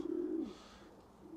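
Pigeons coo in a breeding loft, one soft, low cooing call rising and falling, then a faint second coo, close and quiet.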